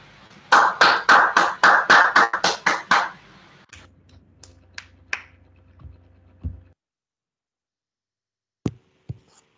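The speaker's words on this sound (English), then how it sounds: "Who is clapping?" Rhythmic hand clapping, about ten quick close claps in a steady burst, followed by a few scattered taps and knocks, then quiet with two brief final taps.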